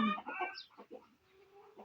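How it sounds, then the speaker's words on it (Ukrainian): A hen cackles after laying an egg in a run of loud, squawking clucks, several bursts close by, then fading into quieter calls. "Курочка знеслась і ніяк не заспокоїться."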